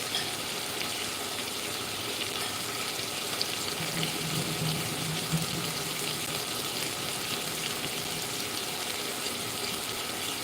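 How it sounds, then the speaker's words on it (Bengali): Rice being rinsed under a running kitchen tap, a steady hiss and splash of water pouring into the pot that continues throughout, with no talk. "আমি দু তিনবার এটাকে ভালো পরিষ্কার জল দিয়ে এটাকে ভালো করে ধুয়ে নিলাম"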